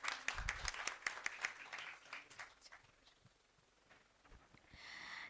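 A round of applause from a nursing education audience, scattered claps at first that thin out and fade, quiet overall with a brief stir near the end.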